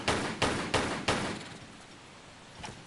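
Video-game gunfire: four sharp shots in quick, evenly spaced succession, each ringing briefly, then a fading tail and one fainter distant shot near the end.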